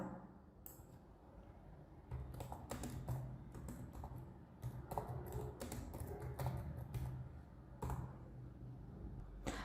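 Fingers type on a computer keyboard while entering a spreadsheet label, producing quick bursts of close, crisp key clicks with short pauses between them, and nobody speaks.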